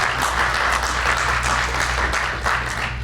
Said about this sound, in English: you gotta clap for that.